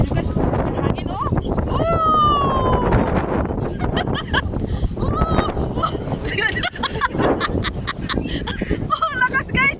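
Strong wind blowing into the microphone as rain approaches: a loud, continuous, gusty rumble buffets the mic throughout.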